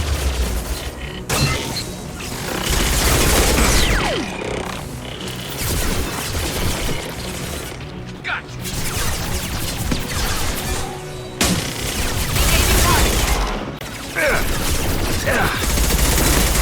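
Gunfire in Mass Effect Legendary Edition comes as heavy bursts of shots and booms across a loud battle, with short pauses between volleys and some voices under the din.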